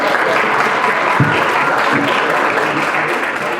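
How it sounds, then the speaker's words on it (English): Steady, dense applause from an audience at an expo ceremony as a speaker is welcomed to the stage, filling the whole stretch loudly and evenly with no voices over it. "Please, a big applause for Dr. Khalid."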